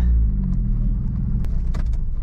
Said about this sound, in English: this little car is struggling here